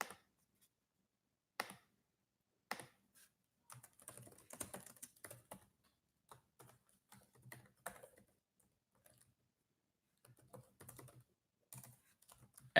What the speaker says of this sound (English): Sorry if the typing is a little loud.